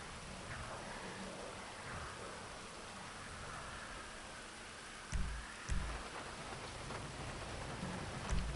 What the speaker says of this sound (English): Is it raining too?